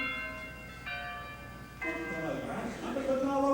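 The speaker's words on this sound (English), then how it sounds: "Those are church bells." Church bells in a small-town scene ring in overlapping, sustained tones that build in layers, with faint voices beneath.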